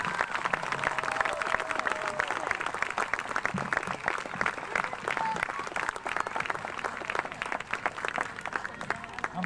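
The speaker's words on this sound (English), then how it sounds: "I would love a wonderful applause for Dick Gordon" An indoor audience at a 2003 Space Day event in Massachusetts gives steady, sustained applause for Apollo astronaut Dick Gordon, dense clapping from many hands with faint voices mixed in.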